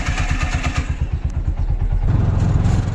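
An auto-rickshaw engine putters with a fast, regular low chugging that shifts to a steadier drone partway through, close and fairly loud.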